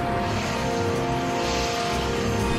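An unmarked Bell 412 EP helicopter flying over Manhattan at night, a steady dense engine and rotor drone with faint tonal whine, constant and moderately loud throughout, without speech.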